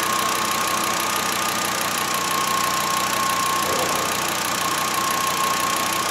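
A 2013 Volkswagen Jetta with a faulty cam sensor circuit idles nearby, its steady engine hum and faint ticking running unbroken with no speech.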